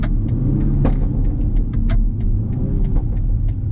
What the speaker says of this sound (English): Oh my god, this car picks up.